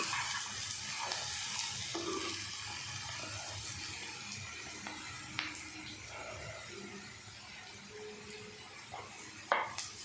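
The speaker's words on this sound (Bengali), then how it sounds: "অনেকটাই ভাজা ভাজা হয়ে গেছে বন্ধুরা আলুটা" Potatoes frying in a blend of mustard oil and ghee give a steady, close sizzle with faint crackles and an occasional clink of a pan or utensil.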